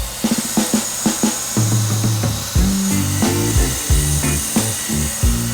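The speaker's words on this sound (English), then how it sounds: "I'm going to just chuck these up in a drill to spin them nice and evenly on my belt sander" Rusty old Vise-Grip pliers spin in a drill against a belt sander, a close, loud grinding whine broken by short bursts and pitch shifts as the motor starts and loads.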